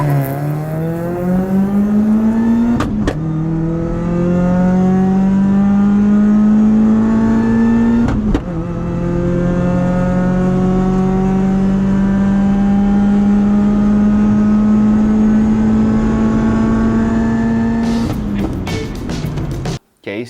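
A Ford Fiesta 1.0 fitted with an Eaton M24 supercharger accelerates hard, its engine note climbing steadily through two gear changes before easing off near the end, loud and close.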